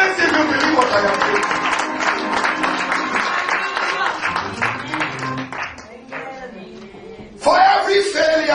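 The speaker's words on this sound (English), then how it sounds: "Clap your hands if you believe what I am saying" A church congregation claps hands in a dense, loud burst of applause that thins out partway through, with a voice speaking over it near the end.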